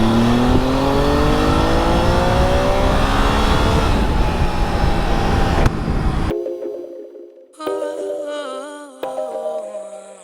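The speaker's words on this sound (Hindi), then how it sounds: "ये लड़की बाइक लेके आई है टीवीएस की।" A TVS motorbike engine revs loudly and rises steadily in pitch, then cuts to quieter, broken engine and tonal sounds toward the end.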